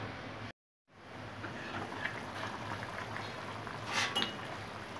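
Fish head curry with curry leaves simmering in a covered pot, a steady soft bubbling hiss with faint pops, briefly cut to silence near the start.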